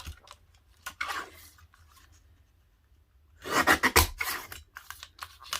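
Scissors trim the paper frame of a file folder journal in short snipping and rustling bursts, a quiet gap between them, then a denser, louder run of cuts and paper handling close by.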